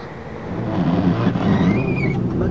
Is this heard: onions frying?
no